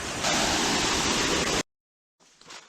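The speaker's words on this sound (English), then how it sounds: "This is one of my favorite falls in Tennessee" A waterfall in Savage Gulf, Tennessee roars steadily and loudly for about a second and a half, then cuts off abruptly to silence before faint rustling noises return.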